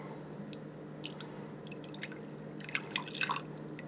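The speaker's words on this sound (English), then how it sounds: "we're going to go ahead and real slowly add our warm water." Warm water trickles slowly into a measuring cup on a kitchen scale while a sourdough starter is being made, heard as soft, faint drips and small splashes that grow busier toward the end over a steady low hum.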